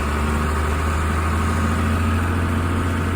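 A John Deere 4240 tractor engine runs at a steady idle, with a deep, constant low rumble and even mechanical vibration close by throughout, and no voices.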